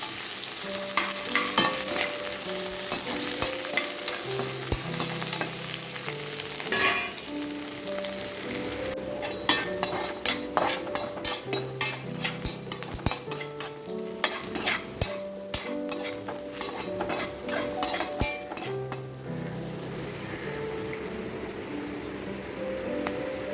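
Spices sizzle and crackle in a hot pan while a spoon stirs and scrapes continuously, a busy close frying sound with no voices.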